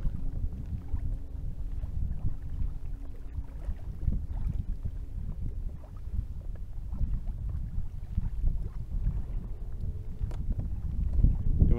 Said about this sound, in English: when the wind's like this, it's hard to fish in the wind